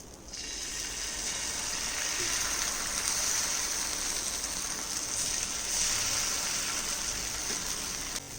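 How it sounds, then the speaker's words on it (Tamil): Thin, watery dosa batter spreading across a hot oiled griddle scattered with chopped onion, giving a steady close sizzle and crackle that holds for several seconds, swelling slightly near the middle. "இதுக்கு மேலே நீர்க்கு கரைச்ச தோசை மாவு ஊற்றலாம்"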